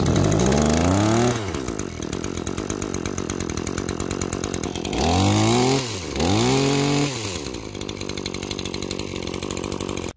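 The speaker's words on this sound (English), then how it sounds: "Once the engine does start this time, we will let it run for a few minutes." An ECHO HCA-2620S articulating hedge trimmer's small gas engine runs steadily up close, its revs surging and dropping several times in sharp whining sweeps before settling into a buzzing idle.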